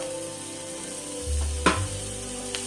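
Curry leaves and fennel seeds dropped into frying onions in a pan give a low steady sizzle close by, with a brief sharp crackle partway through and no talking.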